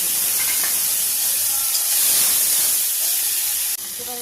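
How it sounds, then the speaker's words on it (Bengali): Nigella seeds and green chillies hit hot oil left over from frying fish, giving a loud, continuous sizzle and hiss close by, with a sharp pop or clatter near the end. "সেই মাছ ভাজা তেলের মধ্যে দিয়ে দেবো খানিকটা কালো জিরে।"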